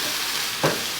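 Onion sabzi with dried kasoori methi is given a single quick stir in a pan with the heat off, a brief scrape rising out of a soft steady background hiss.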